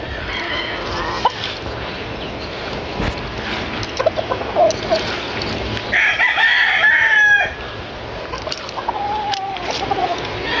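Gamecock stags and roosters of bloodline breeds crow repeatedly and cluck around a breeding yard, several birds calling near and far, with one loud crow standing out midway and steady background clucking throughout.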